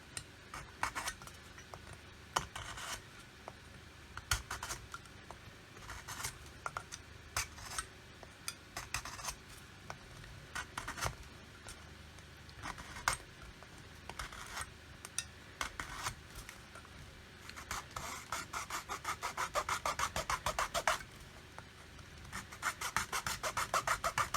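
Repeated scraping strokes along a scribed line on thick plastic, quiet and close, in a steady rhythm that quickens into rapid rasping near the end.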